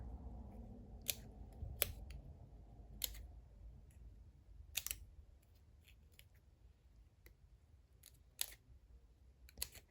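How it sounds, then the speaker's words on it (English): Scissors snip through paper to make fringed layered paper flowers, with sharp, separate cuts spaced irregularly, close and crisp over a faint low rustle, with no talking. "this one I'm only just cutting once between each section"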